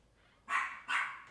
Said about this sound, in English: That must be another dog.